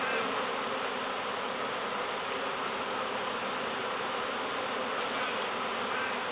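Bees buzz steadily from inside a sofa, a dense, continuous drone of many insects that holds at an even loudness throughout, with no voices.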